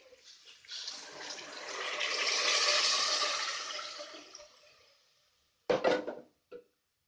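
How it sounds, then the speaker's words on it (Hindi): Water poured into a pot of frying chana masala spice base in a pressure cooker: a rising then fading hiss and sizzle lasting several seconds, followed by a couple of short metallic clanks of a ladle against the pot. "पानी शामिल करेंगे।"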